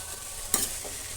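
Finely chopped radish frying with onion in a pan gives a continuous close sizzle, broken by a single sharp stir-scrape midway through.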